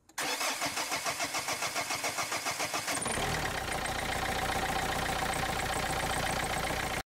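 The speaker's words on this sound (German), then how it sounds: "Starten Sie den Motor." A car engine is started during a fuel injector test and replacement: about three seconds of rhythmic starter cranking, then the engine catches and settles into a loud, steady run close by, with no talking.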